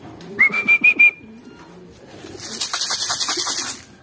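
A racing pigeon lands at its loft during a fun race, with a few sharp whistling calls followed by a burst of rapid wing flapping and fluttering close by.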